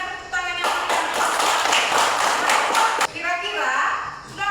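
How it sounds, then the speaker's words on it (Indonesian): A classroom group breaks into applause, a dense patter of many hands clapping together for a few seconds before fading into voices talking. "Silakan berikan tepuk tangan yang meriah."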